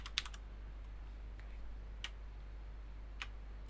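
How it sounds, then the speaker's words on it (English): Quiet typing on a computer keyboard while entering IP addresses into a network diagram: a few sparse, soft key clicks spaced irregularly over a steady low electrical hum. "we can put the IP addressing on just by typing whatever we wish to type"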